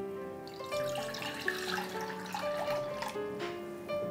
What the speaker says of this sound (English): First, we'll add water